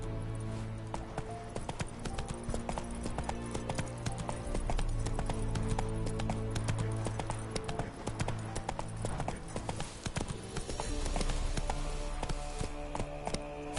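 A horse gallops across the ground in The Witcher 3: Wild Hunt, giving a rapid, continuous clip-clop of hooves with a steady rhythm under faint game music.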